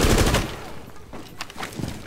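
Bursts of heavy machine gun fire from Tachanka's mounted gun on the back of a snowmobile in Rainbow Six Siege, loud and close at first, then fainter scattered shots and gunfire echoes.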